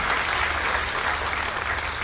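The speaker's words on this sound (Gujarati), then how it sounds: "એકવાર જોરથી બંને માટે તાળી બોલાવો" Audience at an Amit Shah development foundation-stone event in Mansa applauding loudly and steadily, a dense continuous clapping that fills the whole moment without pause.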